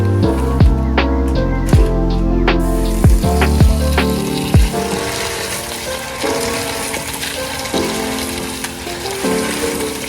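Running tap water pours over beans being washed in a sink, a steady loud rush with clinks and knocks from handling near the start.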